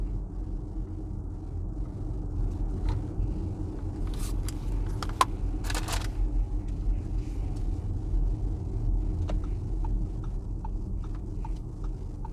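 An Audi e-tron 55 electric car crawls along at low speed with nearly zero range left, a steady low road rumble and tire noise with a few faint clicks and rattles, and no talk.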